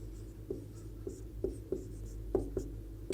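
Chalk or marker strokes on a classroom board as a physics definition of the electric field is written, soft scratchy taps at an irregular pace over a low steady hum, with no talking.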